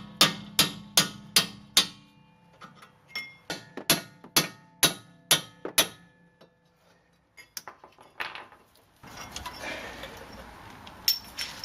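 Heavy hammer pounding out rear strut bolts at the wheel during a Monroe Quick Strut replacement, a run of about ten loud, evenly spaced metallic strikes, then scattered lighter taps and a noisy clatter near the end.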